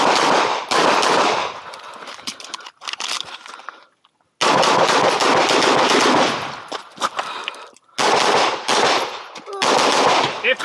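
Rapid pistol shots from a CZ Shadow 2 at a USPSA match, fired in fast close bursts with short pauses between strings, loud and sharp near the microphone.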